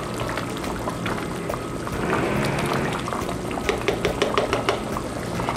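A pot of rice boils steadily for chicken yakhni pulao with a dense, continuous bubbling and gurgling, close and fairly loud, with some faint clinks near the end.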